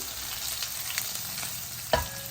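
Crushed garlic fries in hot oil in a pan, a steady close sizzle running throughout, broken near the end by a couple of sharp metallic utensil clinks.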